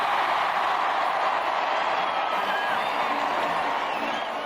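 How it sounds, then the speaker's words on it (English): A large crowd roars and cheers outside for a royal wedding couple, a broad, steady wash of distant voices with no breaks. "Again, the crowd roared its request."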